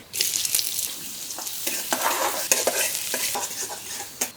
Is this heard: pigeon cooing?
no